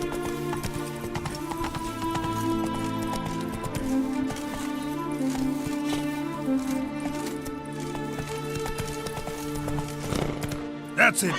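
Roach, Geralt's horse in The Witcher 3 video game, galloping with a rapid steady clip-clop of hooves running throughout, joined by a brief whinny, with game music and voices talking over it.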